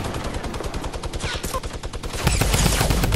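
Gunfire in Fortnite rattles out as rapid, evenly spaced automatic shots that run steadily, then give way to a heavier, denser wash of firing near the end.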